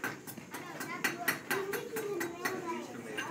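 Blacksmith at Mount Vernon hammering hot metal on an anvil to forge a nail, a rapid run of sharp ringing strikes about every quarter second, with people talking over them.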